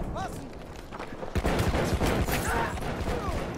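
Bursts of video game gunfire crackle in rapid volleys at close range, growing louder partway through, with a few short electronic chirps and a voice mixed in among the shots.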